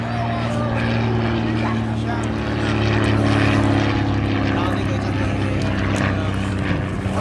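A vintage PT-26 trainer plane flies past at a World War 2 weekend air show, its propeller engine a steady, loud drone throughout, swelling slightly as it passes, with a person talking over it.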